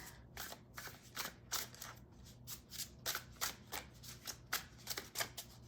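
Repeated crisp, rapid riffles of thick, stiff tarot cards being shuffled, a steady flurry of snapping bursts close up, with faint background hum.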